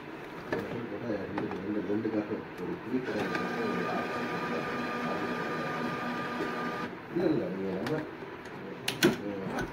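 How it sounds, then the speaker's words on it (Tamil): An Evolis card printer's roller spins during manual cleaning, giving a steady mechanical whir with a faint tonal hum in the middle stretch, with voice-like sounds before and after it. "ரோலரும் ரொட்டேட் ஆகிட்டே தான் இருக்கும்."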